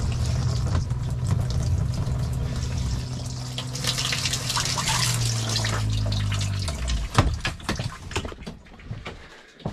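Running tap water in an off-grid tiny house pours steadily with a low rushing hum, then the flow is throttled down and eased back up, ending in scattered drips and splashes.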